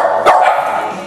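One short, loud dog bark close by, standing alone against a steady background hum.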